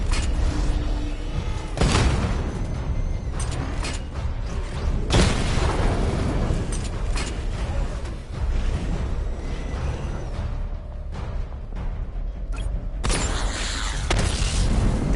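A missile barrage in a PS4 video game, with rapid booming explosions and bursts going off one after another against rumbling mechanical game noise, loud and busy throughout.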